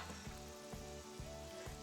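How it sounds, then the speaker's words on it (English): Carrot and potato fritters sizzle steadily in hot oil, a close, continuous crackling fry with a faint rhythmic pulse and no voices. "Now turn the oil down now because it's sizzling to a low heat"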